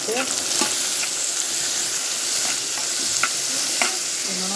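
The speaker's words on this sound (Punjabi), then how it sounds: "ਆਪਣੇ ਪਿਆਜ਼ ਫਰਾਈ ਹੋ ਰਹੇ ਆ" Chopped onions sizzle steadily in a pan for poha while a ladle stirs them. The frying hiss is continuous and close, broken by occasional light scrapes and clinks.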